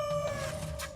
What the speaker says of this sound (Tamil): சுவாமி, கோழி என்னடா அது?